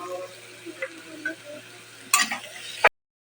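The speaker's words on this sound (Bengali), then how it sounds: "হলুদটাকে দিয়ে আমি আরেকটু নেড়ে চেড়ে দেব।" Turmeric is stirred into food frying in a pan, a faint sizzle with a few soft spoon scrapes and clicks, ending in a sharp scrape and a knock before the sound stops abruptly.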